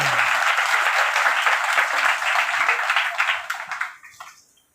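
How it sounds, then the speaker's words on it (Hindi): Loud, dense applause from a crowd at a Hindi religious discourse, a steady wash of clapping that carries on for several seconds before quickly dying away. "जोरदार तालियों के साथ।"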